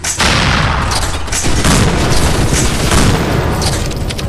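Continuous, loud video-game gunfire and booms in G-String, rapid bursts layered over a dense rumbling background, with no talking.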